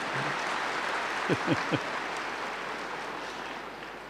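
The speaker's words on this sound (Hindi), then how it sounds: "ताली बजाओ तो उठ जाएंगे सब नींद से।" A classroom audience gives a short burst of clapping, a few quick claps bunched together over a constant room hum, with no one speaking.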